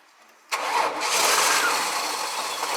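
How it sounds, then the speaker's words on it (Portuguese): An Australian Holden/Chevrolet Omega car engine starts abruptly after a moment of quiet, then keeps running at a loud, steady idle close by, with no talk. "O motor tava funcionando"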